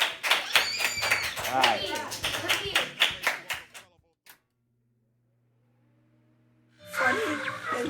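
A small group claps for a member of a youth chess club, brisk close hand claps for about four seconds, then near silence before a voice and more claps return at the end.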